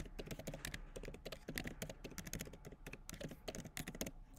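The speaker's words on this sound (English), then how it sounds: "now we're going to type our bucket name" Rapid computer keyboard typing, continuous and close, with dense uneven clicks of keys as a bucket name is entered, heard alone without talk.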